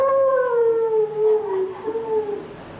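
A human voice imitates howling dogs, a single drawn-out, sliding wail that falls slowly in pitch, clear and alone.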